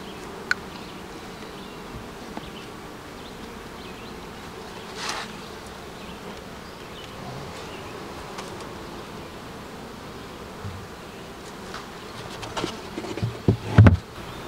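Honeybees buzz steadily around beehives in a continuous, fairly quiet outdoor hum, with a few passing bees louder and closer, and some faint handling bumps near the end.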